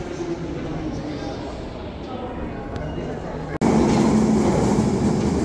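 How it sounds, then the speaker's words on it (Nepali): An old London Underground Piccadilly line train rumbles loudly on the tracks, a steady roar that jumps abruptly louder partway through, with a voice heard briefly. "यो चाहिँ सबैभन्दा धेरै साउन्ड आउने ट्रेन पुरानो भएकोले हो"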